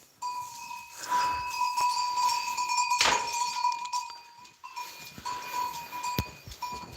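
Pregnant goats on a farm, bleating in a few repeated calls at close range, with an occasional nearby clink or knock and a steady background hum.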